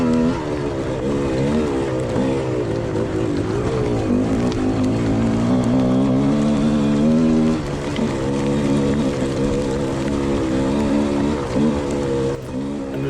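GPX dirt bike engine at an Edge XC cross-country race in Spaunton Quarry, hunting and wavering in revs with a continuous, rising and falling drone heard loud and close throughout.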